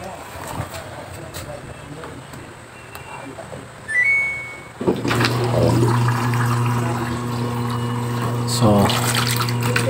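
Water rushes and splashes into the inlet of a Samsung washing machine that has a faulty water pump, starting suddenly midway and running steadily and loudly, with some clattering handling noise earlier on.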